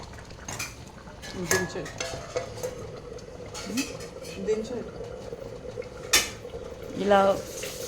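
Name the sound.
stirring mutton paya soup in a pot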